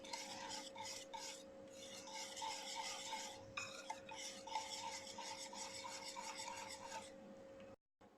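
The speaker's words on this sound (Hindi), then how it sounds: "इसको भी अब हम इतना ही मिक्स करेंगे कि सब अच्छी तरह से मिक्स हो जाए" Brownie batter mixed in a bowl, with a steady rhythmic scraping and rubbing of the utensil against the bowl that continues alone for several seconds under a faint hum.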